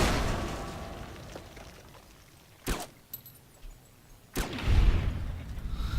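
A single gunshot in the video game Fallout New Vegas, a sharp loud crack standing out from quiet ambience, followed by a few smaller pops and a heavier blast-like burst.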